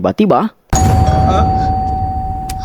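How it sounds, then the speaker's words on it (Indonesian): A brief voice speaks, then a hotel room doorbell chimes once, its single tone ringing out and slowly fading. "Tiba-tiba bel kamar mereka berbunyi"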